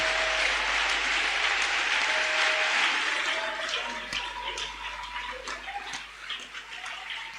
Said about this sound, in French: Let's put our hands together powerfully for him.